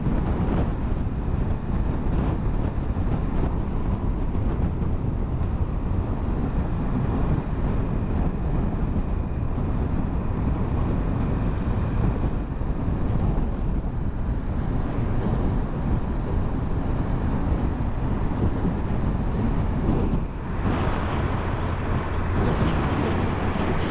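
Cold wind blows steadily across a microphone on the Norwegian coast beside choppy water, a loud broadband rumble that gusts and buffets continuously for the whole stretch, with no voices.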